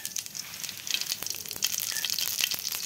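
Cumin seeds dropped into hot cooking oil crackle and sizzle softly, a faint, close, continuous spitting with scattered sharp pops.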